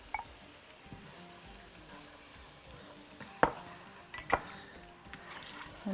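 Rice kofta with tomato juice stirred in a pot, a soft bubbling simmer with a few sharp spoon clinks against the metal near the end, close and quiet, no speech.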